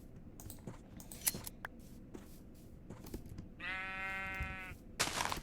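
Sheep in a Minecraft-style game give a single drawn-out bleat of about a second near the end, amid soft clicking and faint background noise.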